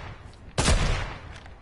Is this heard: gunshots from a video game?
yes